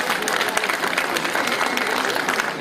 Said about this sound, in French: Applaudissements encore, s'il vous plaît.